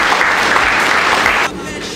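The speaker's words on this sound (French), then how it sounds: "Je vous prie, mesdames et messieurs, d'applaudir M." Loud, dense applause from the crowd at a theology school graduation ceremony, clapping that fills the room and then drops off abruptly to a softer level.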